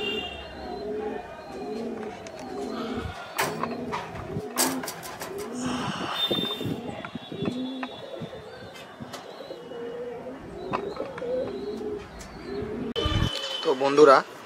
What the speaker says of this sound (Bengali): এটা গিরিবাজ পায়রা আছে